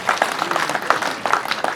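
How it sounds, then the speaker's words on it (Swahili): Mourners at a funeral service clap at the eulogy, a moderately loud scattering of separate handclaps in an uneven rhythm, fairly close and with no voices over it. "Pigeni makofi tafadhali."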